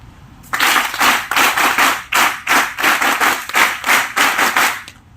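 A burst of rhythmic clapping, loud and close, with about a dozen strong pulses of applause from a small group.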